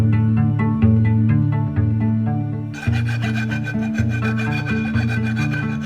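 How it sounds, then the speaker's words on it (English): A bandsaw cuts through an aluminum crossbeam with a steady, droning, harmonic hum that brightens into a harsher, rasping tone partway through as the blade bites into the metal. "And now I'm gonna go cut it on the bandsaw."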